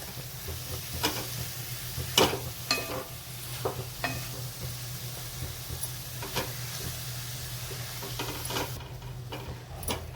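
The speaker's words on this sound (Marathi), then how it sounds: "आता मिक्स करू आणि गॅस एकदम कमी ठेवलेला आहे।" Grated paneer mixed into masala in a pan on a very low flame for dhaba-style paneer bhurji, with repeated spoon taps and scrapes over a steady gentle sizzle and low hum, close by, no talking.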